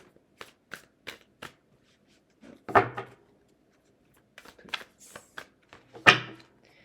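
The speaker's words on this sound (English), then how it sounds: "These aren't the easiest to shuffle" Tarot cards being shuffled by hand, soft papery riffles and taps in irregular bursts, close up, with a couple of louder slaps.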